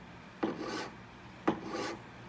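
A wax ring band for jewelry carving is filed while being turned, giving two distinct rasping file strokes, close and clear, each about half a second long with a short pause between them.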